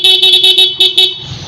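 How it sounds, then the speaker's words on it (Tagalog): A scooter horn honks in a quick series of bright, loud toots, five close together and then two more after a short pause, before the sound fades to a low background. "Saka naglakas na rin po yung kanyang busina."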